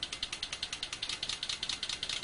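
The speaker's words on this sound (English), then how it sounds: "So this is what it would sound like if it was idling." Stanley Meyer water-powered car idling: a steady, rapid mechanical ticking pulse repeating about eight times a second, bright and clattery, alone with no talk, at a moderate level.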